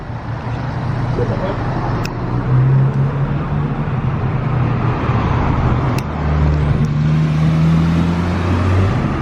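A Porsche 911 GT3 RS sports car drives past with a strong engine note rising and shifting in pitch over steady street and traffic noise, loud and fairly close.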